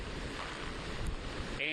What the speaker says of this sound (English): The wind is relentless.